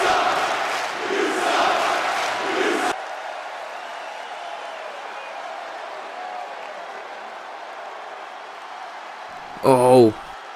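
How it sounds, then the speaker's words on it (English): A virtual arena crowd in the WWE 2K22 wrestling game roars loudly for a few seconds, then settles into a low murmur before a brief loud burst near the end, with talking over it. "This crowd is certainly letting Bischoff know how they feel."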